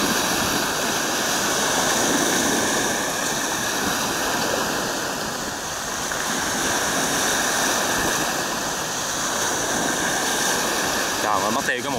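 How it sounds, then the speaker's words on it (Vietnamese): Sea waves crash near the shore around an overloaded boat heading out to sea, a constant loud wash of surf and wind with a voice faintly mixed in. "tại vì trong bờ nó rút rút cho nên thì sóng nó rất dậu dập"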